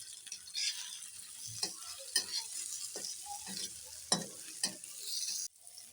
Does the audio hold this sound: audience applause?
no